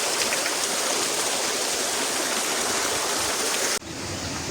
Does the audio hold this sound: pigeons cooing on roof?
no